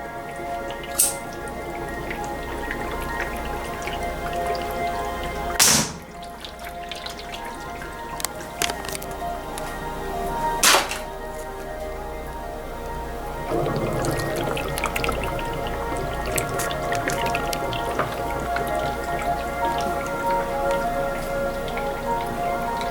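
HHO gas flashbacks pop inside a water-filled bubbler flashback arrestor, giving a few sharp, loud cracks spaced seconds apart over constant bubbling and dripping water.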